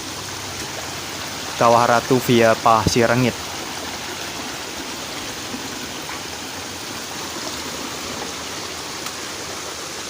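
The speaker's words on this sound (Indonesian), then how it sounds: "Ini seperti kita melewati aliran sungai teman-teman ya." Mountain stream water running over a rocky hiking trail on the way to Kawah Ratu via Pasir Reungit, a steady close wash of flowing water throughout, with a brief burst of someone talking near the start.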